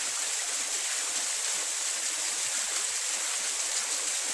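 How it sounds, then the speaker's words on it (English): A waterfall's constant rushing hiss of falling water, steady and even throughout with no voices or other sounds. "I'll leave the video running for a couple more minutes to enjoy the waterfall"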